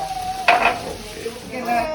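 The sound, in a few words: tempering frying with capsicum, onion and potato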